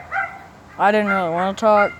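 A farm dog gives a drawn-out, whining howl-bark, loud and close, with two vocal bursts following a short spoken phrase from a person.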